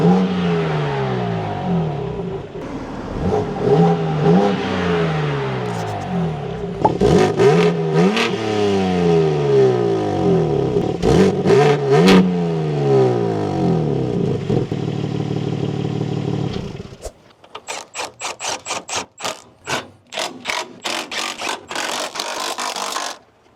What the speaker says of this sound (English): now I wanted to give the thing some revs.